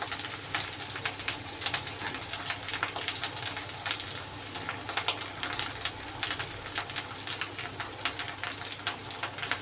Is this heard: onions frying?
yes